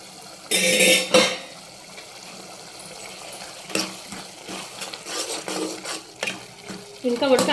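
Tomatoes with a little salt cook in a curry pan for a tomato curry, with a soft sizzle broken by several loud scraping stirs close up and no talking.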